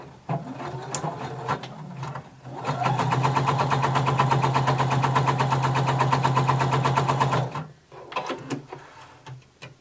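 A home sewing machine stitches rows of gathering stitches on a garment sleeve cap. The motor whirs in a steady, loud, rapid run of about five seconds, framed by quieter handling clicks before and after.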